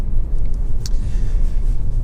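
A 2013 Honda CR-V 2.0 i-VTEC EX 4WD with manual gearbox driving on a road test: steady loud low engine and road rumble with wind noise from inside the cabin, no talk.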